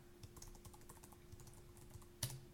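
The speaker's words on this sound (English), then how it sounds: "So I'm going to type in my login information," Fingers tapping out login details on a computer keyboard, a quick run of light, close clicks with one louder keystroke near the end, quiet overall and without speech.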